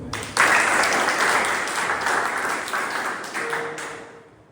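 Audience applause at a Toastmasters club meeting, a dense burst of clapping that starts abruptly, holds steady, then thins and fades near the end.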